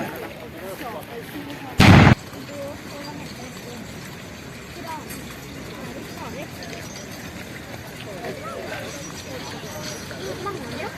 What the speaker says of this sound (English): today they are going to have 41 gun salute instead of 21